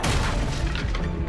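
Incendio fire spell cast in a Harry Potter video game, a short dense whooshing burst with a low booming rumble, loud and close, lasting about a second with no voice over it.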